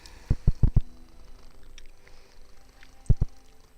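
A cat named Nandi on a lap, close, soft pulsing low thumps in short bursts, a quick cluster of four followed by a pause, then two more, with no talk.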